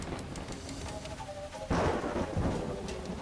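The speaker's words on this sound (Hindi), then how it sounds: "कितनी बिजली कड़क रही है।" Thunder cracks during a rainstorm, a loud, sudden clap bursting out of the steady hiss of falling rain and rolling on as a deep rumble.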